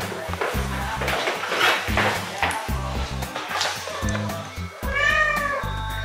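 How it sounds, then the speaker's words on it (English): A house cat meows near the end, a rising, wavering cry heard close over steady thumping background sound. "I don't think I've introduced you guys to my cat."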